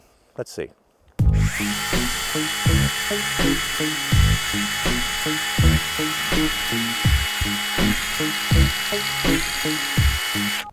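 A nano blade power tool cuts through a one-inch green Douglas fir branch outdoors, a loud steady whine with rhythmic thumping chatter running continuously, preceded by a few brief knocks and a short spoken remark.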